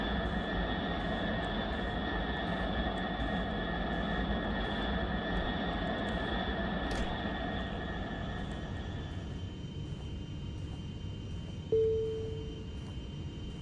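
Inside an airplane cabin before takeoff, the engines hold a steady, droning hum with a constant tonal whine that continues unbroken, and one short tone sounds near the end.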